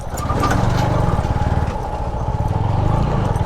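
A motorcycle engine chugs loudly and close with a rapid, pulsing beat and jolting bumps as it rides over a badly broken road, steady for several seconds with no speech.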